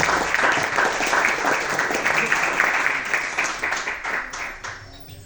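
An audience applauds loudly at a medieval Spanish music concert, a thick burst of clapping that stays strong before gradually thinning and fading toward the end.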